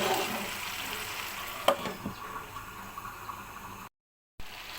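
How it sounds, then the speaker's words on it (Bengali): Chicken curry sizzling steadily in a pan as ground cumin is stirred in, with a couple of sharp scraping knocks from the spoon and a brief dropout near the end; no voices. "এখন এর মধ্যে দিয়ে দেবো হচ্ছে আমি জিরা গুঁড়া, দিয়ে এটাকে নেড়ে চেড়ে আমি আর 2 থেকে 3 মিনিট রান্না করে নেব"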